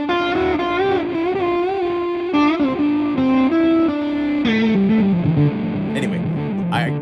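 A synthesizer patch set to imitate a distorted electric guitar plays a loud sustained melody with bending, gliding notes and gritty harmonic buzz, with no talk over it.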